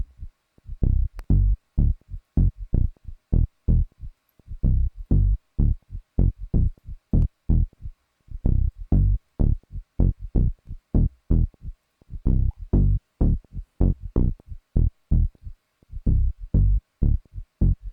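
A tech house bass line from the Zenworld Evolution of Sounds "Funky Times" preset plays alone as loud, punchy, deep repeated notes in a tight syncopated rhythm, each short pluck decaying quickly before the next.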